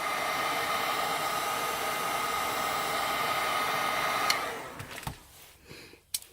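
A heat gun blowing on a Samsung Galaxy J3 phone during a teardown, a loud, steady, close airy roar that suddenly cuts off, followed by a few faint clicks and handling sounds.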